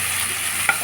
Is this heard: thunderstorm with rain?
no